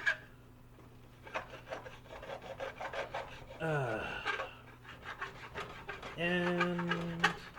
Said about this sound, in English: Scrape off more excess eggs.